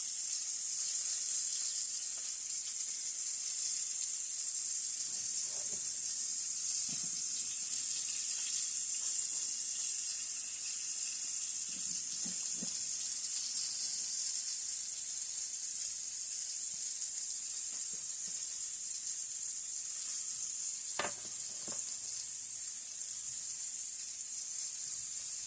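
Pancakes sizzle in a pan greased with a few drops of olive oil, a steady faint hiss with occasional soft pops and crackles running throughout.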